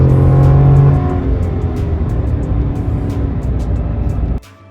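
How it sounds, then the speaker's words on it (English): A GMC Sierra AT4 pickup truck accelerates on a road test drive, the engine note rising loud and close before settling into a steady road roar that drops away abruptly at the end. "We'll just accelerate a bit here."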